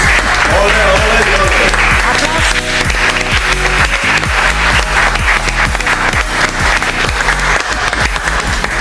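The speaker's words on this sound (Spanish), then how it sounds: "Aplauso para las chicas guapas." Audience applause and cheering at a fashion show in Marbella, a dense steady wash of clapping running the whole time over loud pumping dance music with a regular thudding bass beat.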